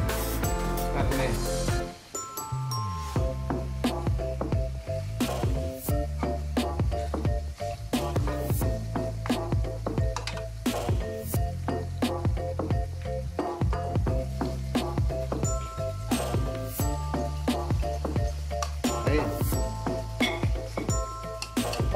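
Pieces of pork steak fry over a low flame in a pan, a steady close sizzle and pop with light clinks of utensils, running continuously under background music.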